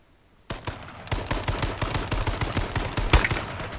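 Gunfire in the video game H1Z1 arrives as a sudden close burst after a quiet start, then a rapid irregular string of shots that continues to the end.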